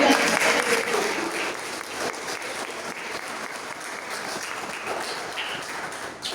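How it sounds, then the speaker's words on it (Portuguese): A church congregation applauds during an evening service, giving steady, dense clapping that starts loud and eases slightly, with faint voices mixed in. "Quem crê nisso aqui nessa noite, você pode aplaudir ao Senhor."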